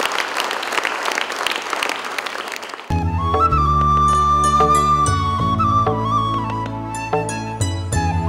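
A stage event audience gives a burst of applause as a speaker is welcomed on; the clapping is loud at first, then cuts to music with a sustained tone and percussive hits.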